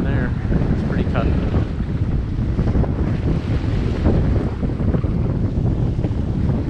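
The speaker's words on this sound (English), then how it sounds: "there's a fair amount of wind" Strong wind roars across a double-reefed sailboat on rough water with 6 to 8 foot waves, a loud steady rush with hull and water noise throughout and no clear pauses.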